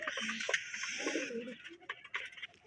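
Pigeons, including a Kaldam pigeon that has laid eggs, cooing close by, low throaty murmurs repeating over the whole stretch, with a steady high hiss behind them.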